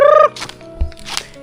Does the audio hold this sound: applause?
no